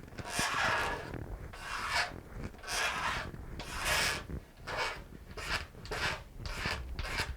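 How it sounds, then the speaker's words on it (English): Razor blade scraping a wooden side strut inside a steel string guitar under construction, close rhythmic rasping strokes, about a dozen back-and-forth passes with brief pauses between. "I would stick with even a razor to use as a scraper."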